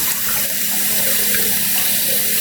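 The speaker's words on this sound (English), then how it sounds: "Need to put a little more water in the sink." Tap water runs steadily into a bathroom sink before a shave, a continuous near splashing rush that holds level throughout with no talking.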